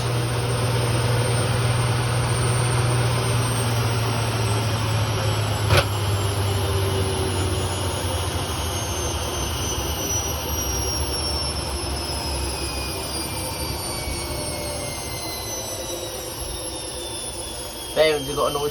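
BEKO washing machine drum spinning up at full speed, a loud steady whirring roar with rising whine tones and rumbling bearing noise, sustained throughout with a couple of brief clicks.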